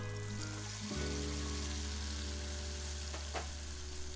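A paste of white and black mustard seeds frying in hot mustard oil in a Bengali fish curry pan, a steady dense sizzle throughout with a brief scrape of stirring near the end, close and fairly loud.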